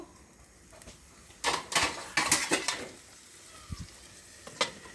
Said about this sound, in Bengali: এখন আমরা এটাকে ঢাকনা দিয়ে ঢেকে দিব।